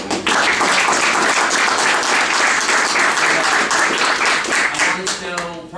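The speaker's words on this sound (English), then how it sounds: "I just want to give you a round of applause" A convention audience at a comic-con meet and greet gives a loud, dense round of applause that fills the whole stretch and tapers slightly at the end.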